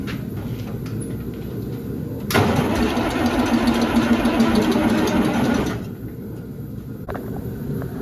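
A John Deere 4010 tractor engine cranks and catches, running roughly for a few seconds before cutting out, close and fairly loud, with quiet shop sounds before and after.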